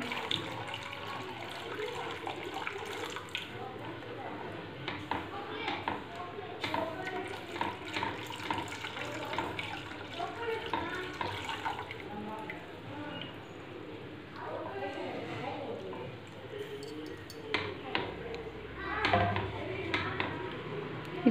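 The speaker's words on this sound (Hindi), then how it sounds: "और धीमी आंच पर कस्टर्ड का घोल डालें।" Custard mixture poured into a pan over low heat for custard halwa and stirred steadily, producing a continuous liquid pouring and sloshing with soft scraping, heard under intermittent talking.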